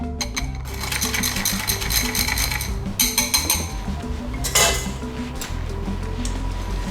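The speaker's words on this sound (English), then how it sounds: "I think I have to stir it well." Spoon clinking and scraping against a bowl while stirring lemon sponge cake batter, giving close, irregular metallic taps and a steady rattling rhythm with a few louder clinks.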